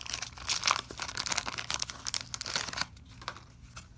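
A 1986 Donruss baseball card wax pack is torn open, close crinkling and ripping of the wax paper in quick irregular bursts, then a quieter rustle, with no talking.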